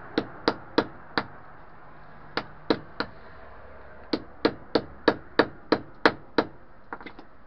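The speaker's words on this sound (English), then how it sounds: "you smash the hammer on it to crack it on two sides." A hammer strikes peach pits to crack them, giving sharp, close knocks in quick runs of four, three and seven, with short pauses between groups and no talk.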